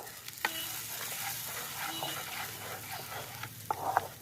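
Yogurt, cashew and melon seed paste is stirred into a Bengali white potato curry, giving soft, quiet scraping and a faint simmer, with a few light utensil clinks near the end; no talking.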